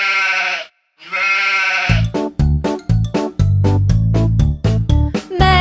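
Cartoon sheep bleat from a children's nursery-rhyme animation: two drawn-out, loud bleats with a brief gap, then bouncy, rhythmic music takes over.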